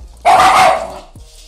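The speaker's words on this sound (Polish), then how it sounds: "na kogo szczekacie, psiuki?" A single sharp, loud bark from a small dog sounds close, with a short tail and a faint second yelp just after.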